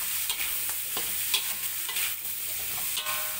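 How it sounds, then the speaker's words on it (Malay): Onions and tuna being stirred in a frying pan for a lemon stir-fry, with steady sizzling and repeated scraping strokes of the utensil, close and moderately loud, no talking. "Okey, kita gaul semua ni. Kita kacau."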